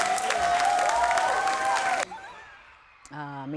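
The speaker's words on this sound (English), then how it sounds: "Give yourself a round of applause." Elementary school graduates applaud and cheer in a lively burst of clapping and whoops that cuts off abruptly after about two seconds, followed by quieter ambience and a brief voice.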